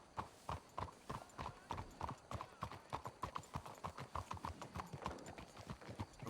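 Horse hooves clip-clopping in Red Dead Redemption 2, a brisk, steady rhythm of close, crisp hoofbeats on hard ground, joined by a brief whinny, carrying on without pause.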